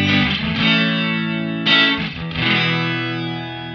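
Electric guitar run through a modulation effect with irregular, fractal-style variation on a MOD Dwarf pedalboard rings out in sustained distorted chords, swelling and wavering unevenly, loud and alone.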